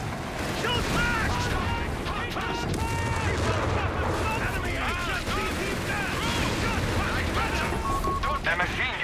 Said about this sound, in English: Infantry taking shots at us! Shoot back!